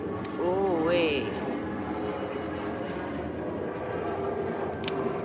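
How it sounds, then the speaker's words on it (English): An airplane passes overhead outdoors, a steady broad engine roar holding throughout at moderate level, with a brief warbling tone early on and no talk over it. "There's a plane flying overhead"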